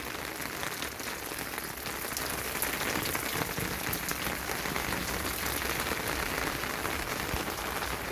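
Steady rain pours down outdoors, a dense, even patter on surfaces and plastic sheeting that stays constant throughout.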